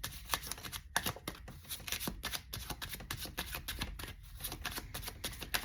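A deck of tarot cards is shuffled over and over, with rapid papery flicks and riffles in an uneven, continuous rhythm, close by and quiet, with no one speaking.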